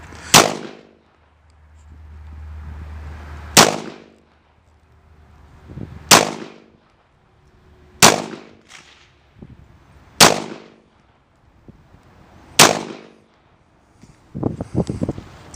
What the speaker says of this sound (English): I'm going to have her go ahead and squeeze off a couple rounds